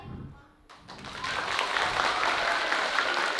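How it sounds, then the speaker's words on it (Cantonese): Classroom audience claps for students receiving awards, the applause starting abruptly after a quiet moment and then staying dense and steady. "掌聲"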